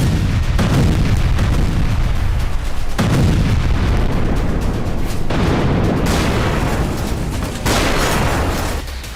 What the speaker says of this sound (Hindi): फैब बमों से विस्फोट के बाद यूक्रेनी ठिकाने कुछ इस तरह से चल रहे हैं।